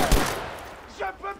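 Rapid gunfire in the World War II shooter Battlefield V, a sustained close burst of shots with a few distinct cracks near the end, heard with no talking over it.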